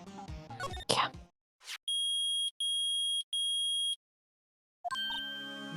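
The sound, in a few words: metal detector beeping in Ace Attorney video game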